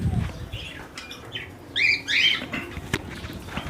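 A breeder pair of cockatiels chirps in short, bright bursts, with a louder cluster of calls midway and faint rustling or wing flutter around them, heard fairly close in a quiet shelter.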